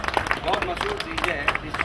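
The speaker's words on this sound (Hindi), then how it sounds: "उनका जोरदार ताली से स्वागत किया जाए" Audience at a Rajasthani film launch ceremony claps to welcome guests, a dense, sustained patter of many hands with overlapping voices and crowd chatter throughout.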